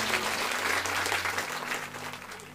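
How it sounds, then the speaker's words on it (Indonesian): Hearty applause from a church congregation, a dense wash of clapping hands that stays full and steady for a few seconds before easing slightly. "tepuk tangan yang meriah buat Tuhan."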